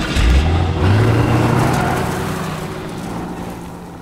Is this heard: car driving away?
yes